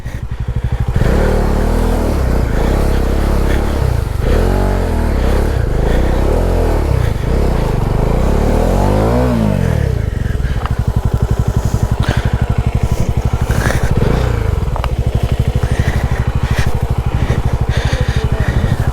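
A motorcycle rides through a dense kudzu forest, its engine droning steadily and loudly with rising and falling revs and some clatter, continuous throughout with no talk.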